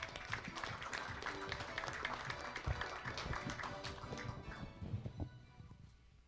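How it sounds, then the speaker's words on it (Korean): Applause from a seated audience at a Korean university presidents' summit, greeting a research division head as she comes up to present; steady, fairly dense clapping with some murmuring that thins out toward the end. "정지선 본부장님 나오실 때 큰 박수로 환영해 주시기 바랍니다"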